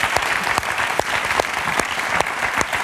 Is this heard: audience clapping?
yes